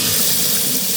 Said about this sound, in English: So we're going to just rinse it and make sure it's all clean.